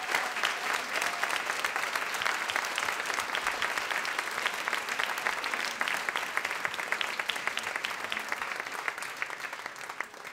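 An audience at a school musical applauds steadily, a dense, continuous wash of clapping that stays loud and even throughout, with no voices above it.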